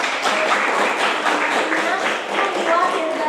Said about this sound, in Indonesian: Oke, berikan tepuk tangan ya.